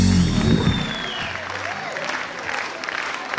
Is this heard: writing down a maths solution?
no